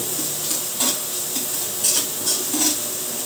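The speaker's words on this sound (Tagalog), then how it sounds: "Gigisan natin siya para maluto agad." Tomatoes sautéing in a pan for pork liempo sinigang, a steady close sizzle and hiss with light stirring scrapes repeating every half second or so, and no talking.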